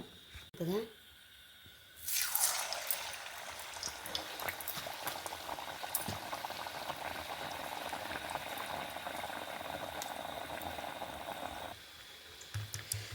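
Bottle gourd vada is slipped into hot oil and bursts into a loud, bubbling sizzle that holds steady for several seconds before easing off, with a brief clatter just before.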